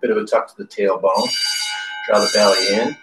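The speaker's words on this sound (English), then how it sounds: "I should mention my building is doing a fire alarm test," A building fire alarm bell rings during a test, a steady bright tone that holds loud through the middle and overlaps a yoga instructor's calm spoken cues before and after.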